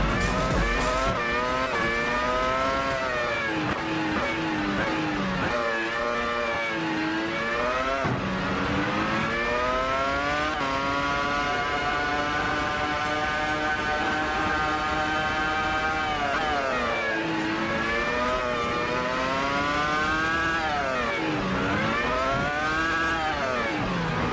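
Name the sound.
Williams FW26 F1 car accelerating in racing video game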